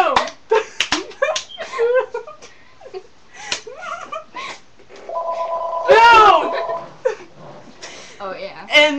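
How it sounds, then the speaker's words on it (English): A telephone rings with a clear electronic trill in the middle of the stretch, surrounded by lively speech before and after it. "I predict. That phone's going to ring."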